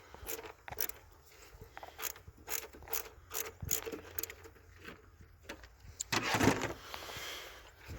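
A ratchet fitted with a half-inch socket clicks intermittently while loosening a bolt on a 2017 Dodge Charger V6 engine, with bursts of pawl clicks and metallic handling noises at close range.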